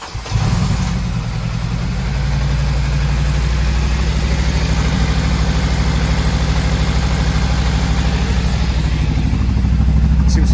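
Honda Civic Type R FN2 engine starting and settling into a loud, steady, slightly uneven idle after a fuel rail install, a continuous close rumble throughout.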